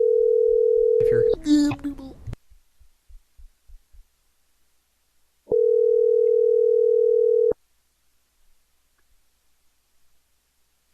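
Telephone ringback tone heard while calling someone back during a live broadcast: a steady electronic tone sounds, pauses while a muffled voice and clatter intrude, then a second tone of about two seconds rings clearly, followed by quiet.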